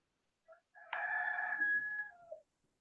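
A rooster crows once, a full drawn-out call of about two seconds preceded by a short clucking note, clear and fairly close against a quiet background with no talking.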